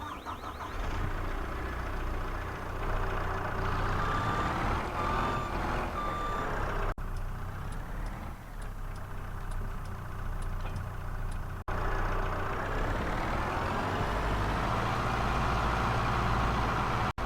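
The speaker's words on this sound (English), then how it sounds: "here is the skid steer" New Holland skid steer engine in Farming Simulator 22, idling and revving at a steady loud level, with repeated reversing beeps and a low heavy engine drone throughout.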